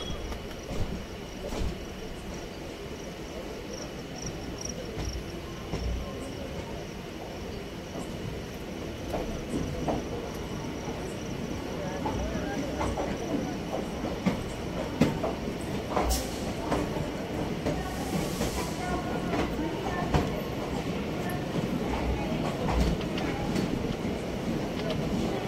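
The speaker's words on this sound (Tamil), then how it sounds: "திருநெல்வேலி ரயில்வே ஸ்டேஷன் வந்துச்சுங்க." An unreserved passenger train from Tiruchendur to Cuddalore runs on rails near Tirunelveli station, giving a continuous rumble with rhythmic clicks and clacks from inside the carriage, getting slightly louder, with faint background voices.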